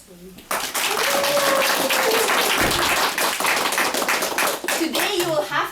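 An audience claps loudly and steadily at a Halloween meeting of the Toastbusters club, with voices talking and calling out over the sustained applause.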